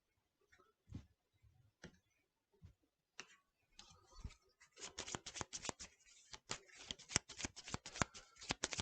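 Cards for the Monster Hunter World board game being shuffled, starting with a few soft isolated taps and then a quiet run of rapid riffling clicks up close.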